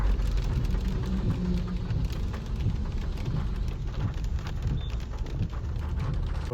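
Heavy rain pours steadily on an outdoor village fair in Sanjarpur with a deep, dense rumble, no voices, a continuous downpour from start to finish.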